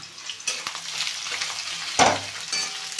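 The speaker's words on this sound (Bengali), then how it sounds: "এর মধ্যে দিয়ে দেবো মুগের পাতাগুলোকে আর দিয়ে দেবো এই কাঁচা লঙ্কা" Leaves and green chillies dropped into a hot frying pan, producing a close, crackling sizzle that flares sharply partway through as more goes in. Stirring noises and light clatter follow, with no speech.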